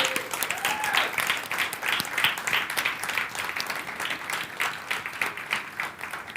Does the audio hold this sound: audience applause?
yes